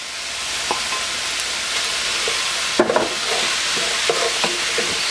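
Ground beef frying with peppers and onions in a pan for Thai basil beef, a continuous broad sizzle with scattered scrapes and clicks of stirring, no talk.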